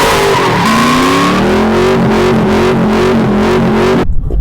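Z28 Camaro drift car with an X-pipe and two MagnaFlow short exhausts dumped at the axle, engine roaring loud and close with a rising, wavering pitch before cutting off abruptly.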